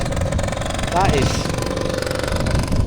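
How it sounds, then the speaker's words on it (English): A scooter engine buzzes past nearby at an autumn fair in Laughton, its pitch sweeping briefly as it passes, over a constant drone of traffic and voices. "let's see this scooter coming past"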